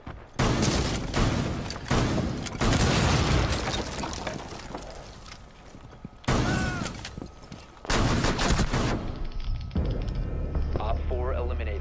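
Shotgun blasts in a multiplayer video game, a few loud bursts of gunfire and booms separated by quieter stretches, with people talking over the action.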